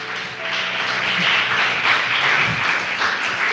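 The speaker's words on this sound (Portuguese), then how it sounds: "Vamos aplaudir o Senhor com alegria" Church congregation applauding during a sermon, a steady wash of many hands clapping together, sustained and fairly loud throughout.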